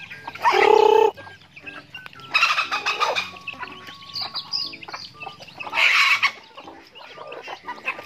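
Native chickens cluck and squawk in short bursts close by, with softer chirps and rustling between the louder calls.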